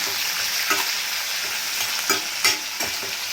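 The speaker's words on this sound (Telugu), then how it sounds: "ఒక పక్క అయితే ఈ మడప్రాయిలు బాగా ఫ్రై అవుతున్నాయి ఒక పక్క అయితే ఈ ఆనియన్స్ బాగా ఫ్రై చేసుకోవాలి" Onions and dried prawns fry steadily in a pan for a brinjal and dried prawn curry, a continuous close sizzle broken by a few sharper scrapes and clicks of stirring, with no voices.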